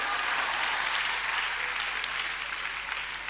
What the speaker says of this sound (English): You better clap because it's the truth.